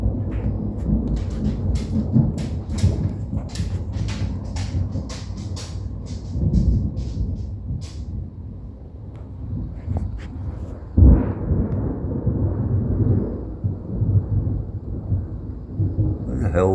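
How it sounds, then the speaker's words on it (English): A lightning storm brings heavy, steady rain with deep rolling thunder, including one sharp nearby crack around the middle, and the rumbling carries on afterward. "There's a hell of a lightning storm in."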